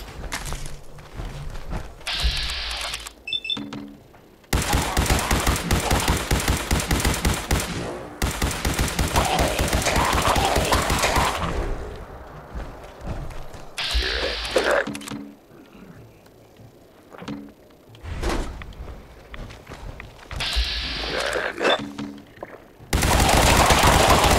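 Gunfire in Fallout 4, rapid bursts of automatic fire alternating with single loud shots, close and sharp, separated by brief lulls of quieter mechanical clicks.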